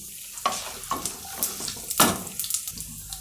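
Half a teaspoon of mustard seeds splutter in hot oil, tempering for a South Indian potato dish. Close, irregular pops and sizzling crackles come in bursts, with no voices.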